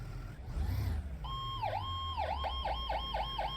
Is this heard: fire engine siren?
yes